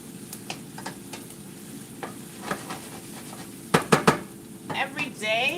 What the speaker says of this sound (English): We're just going to wilt down the onions.